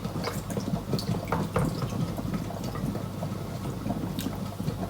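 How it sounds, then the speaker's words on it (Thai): Water poured from a glass into a jar of sweet-and-sour pickled apples, a steady close splashing trickle running unbroken for several seconds with no talk over it. "เดี๋ยวมาเทน้ำกันเลยนะคะเนาะ"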